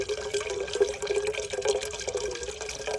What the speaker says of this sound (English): I'm pressing on it to allow water to come out